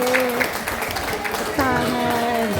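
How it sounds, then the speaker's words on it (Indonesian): Audience applause at a plenary session of a midwives' association branch meeting in Tegal: a steady wash of clapping runs throughout, blended with voices and a sustained sung or spoken tone. "Tepuk tangan."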